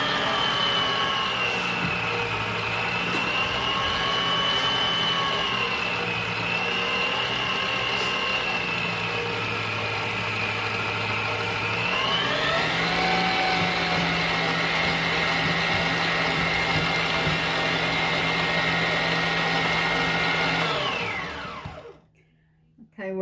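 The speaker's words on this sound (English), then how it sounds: "So we're going to cream our butter just a little bit." Electric stand mixer creaming two sticks of salted butter, a steady loud whirring motor hum that shifts pitch partway through, then cuts off abruptly near the end.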